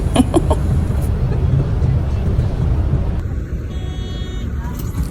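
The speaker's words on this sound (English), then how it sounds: "This was a bus taking us to the border" A bus bumps along the road toward the Cambodian border, a steady low rumbling engine and road noise with rattles and knocks early on, fairly loud and close, with faint voices underneath.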